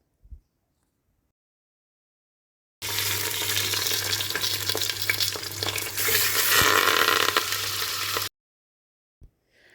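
Chicken pieces frying in oil in a pressure cooker, a steady loud sizzle that starts abruptly and holds for about five seconds before cutting off, with a low hum underneath and no talking.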